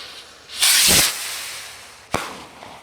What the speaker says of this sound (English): Another rocket. Big burst ballistic Shogun.